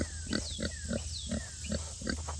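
Pigs grunting in a farm pen, a steady series of low, rhythmic grunts close by, with faint chirping or squeaky sounds above them and no talking.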